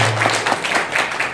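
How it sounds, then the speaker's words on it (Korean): A church congregation breaks into brief, fairly loud applause, many hands clapping together in a short, dense burst. "박수로 한번 부탁드립니다"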